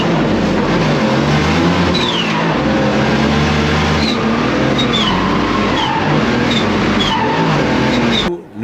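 Race car at a French Wildcard CFD 2024 rally event in Val de Vienne, its turbo surging, revving loudly and continuously up close, with chirping whistles and fluttering over a deep engine drone.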